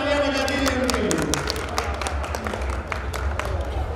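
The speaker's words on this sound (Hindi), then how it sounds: "एक बार जोरदार तालियां बजा दीजिए उनके लिए।" A crowd at a community Annakut festival's family games in Ujjain applauds a game winner with brisk, sustained clapping, close and steady, while a voice speaks over the start.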